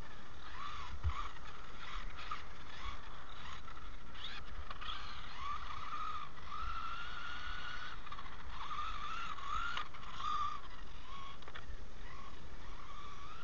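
A Kyosho Fazer MK2 RC car with a brushless setup drives continuously, its electric motor giving a thin, faint whine that wavers in pitch as it speeds up and slows, heard from a distance.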